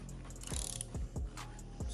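A ratchet tightens bolts on an Evo X 4B11T engine being assembled, with a rapid close clicking of the pawl in several short bursts and a few sharp metallic knocks.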